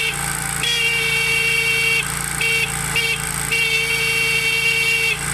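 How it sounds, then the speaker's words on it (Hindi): A motorcycle horn powered without a battery while the engine idles sounds in repeated steady blasts, with short breaks between honks over a constant engine drone, close and loud. "मैं आरएन बजा रहा हूँ मोटरसाइकिल का।"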